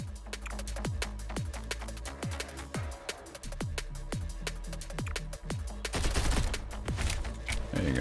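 Repeated heavy shots from a big gun in a video game, a steady rhythm of booming blasts with decaying tails over loud game music, turning to a denser burst of gunfire near the end.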